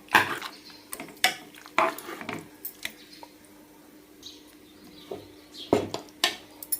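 Fish pieces frying in oil are gently stirred in a pan on low heat, with irregular metallic scrapes and clinks of the spoon against the pan over a faint sizzle.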